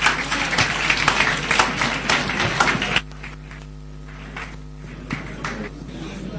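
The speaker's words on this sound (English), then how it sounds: "Please, a round of applause for him." Audience applause greets a speaker arriving to teach at a seminar, a dense burst of clapping for about three seconds that then breaks off into a quieter room with a low steady hum and a few scattered claps.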